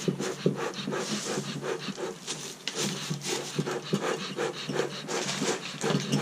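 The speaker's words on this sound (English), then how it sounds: "we're constantly working the bellows to get this going" A beehive smoker's bellows pumped over and over while pine shavings and newspaper smolder inside, giving a close, rhythmic series of breathy puffs and soft wooden creaks, repeating steadily.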